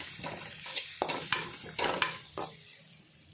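Grated coconut fries in a pan with a low, continuous sizzle, broken by several quick scraping strokes of a spoon as it is stirred. The sound is fairly quiet and close, with no voices.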